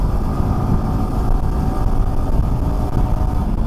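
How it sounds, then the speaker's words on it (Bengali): Motorcycle riding at about 80-90 km/h, heard from inside a helmet with the visor closed, a dense steady engine and road drone with muffled wind rush throughout. "বাইকের নয়েজ কেমন আসছে তোমরা চেক করো।"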